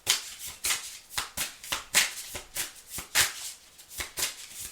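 Tarot cards are shuffled by hand in quick, rhythmic bursts of papery riffling and slapping, about a dozen close, crisp strokes with brief gaps between them.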